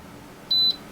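A vacuum sealer gives a single short electronic beep when finished, clear and steady in pitch, lasting about a fifth of a second, over a quiet background.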